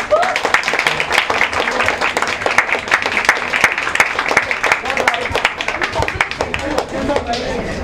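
Audience applause at a Bollywood book launch with a film star, steady clapping from a crowd lasting throughout, with voices talking over it.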